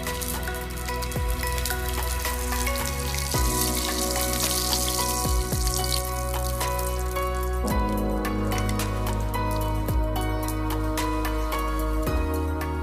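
Green chillies sizzle in hot coconut oil in a pan for a Kerala curry, a steady crackling fry with scattered pops and spits running throughout at close range.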